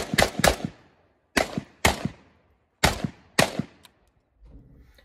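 Five sharp gunshots from a Palmetto State Armory GF3 AK rifle, fired singly in an uneven rhythm with short ringing decays, loud and close, followed by faint rustling.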